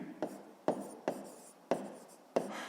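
Pen strokes on paper while a math answer is written down, five separate short scratches spaced about half a second apart, close and quiet with no talking.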